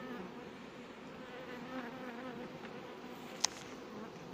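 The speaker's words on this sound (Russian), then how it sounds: "Вот видите, сколько пчел." Honeybees buzz around a hive at an apiary checked in early June, a soft, continuous drone of many insects close by, with one sharp click near the end.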